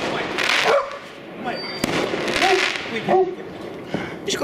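Dog barking amid New Year fireworks, a Staffordshire terrier with a Tibetan mastiff nearby; sharp barks and yips repeat over crackling bursts and pops, with people talking throughout.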